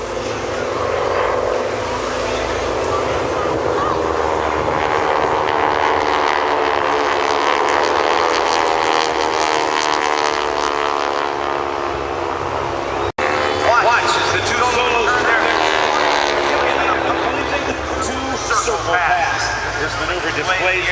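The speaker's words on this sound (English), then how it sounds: "The two FAC aircraft are now inbound and are looking over the target area for" Propeller aircraft of the Geico Skytypers airshow team drone loudly overhead with a sustained, shifting engine roar throughout, while an announcer talks over the sound.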